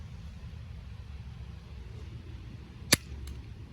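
A single sharp crack of a small toy projectile ricocheting off a plasticine model Jagdpanther E-100 tank, brief and fairly loud over a steady low rumble of background noise.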